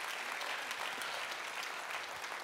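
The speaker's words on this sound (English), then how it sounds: "Give yourself a round of applause." A church congregation claps steadily and evenly for a few seconds during a Sunday sermon, a dense, unbroken patter of many hands.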